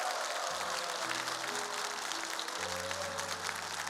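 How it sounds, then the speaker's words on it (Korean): Congregational applause for a senior pastor at a church prayer rally, steady and continuous throughout, with sustained music tones underneath. "큰 박수로 한번."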